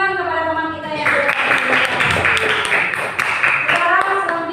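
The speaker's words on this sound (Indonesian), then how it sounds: "Berikan tepuk tangan kepada teman kita yang sudah" A classroom of students claps together for a classmate in a short burst of brisk applause, with a voice speaking just before and after the clapping.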